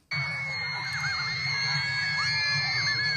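Fans of Taylor Swift massed outside a restaurant scream continuously: a dense, loud, sustained wall of high-pitched shrieks and yells that starts abruptly and never lets up.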